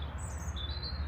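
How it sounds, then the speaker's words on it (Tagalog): Small bird chirping near a field of crops, a few thin high tweets sounding faintly over steady outdoor background noise, with no voices. "Kinakantahan pa ako ng ibon."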